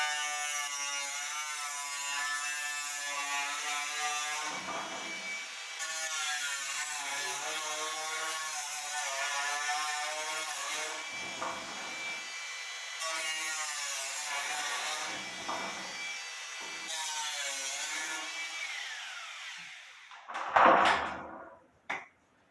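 Angle grinder whining steadily through a cut made in the opposite direction, a sustained high buzzing drone with slight pitch dips, ending in a brief loud clatter before stopping.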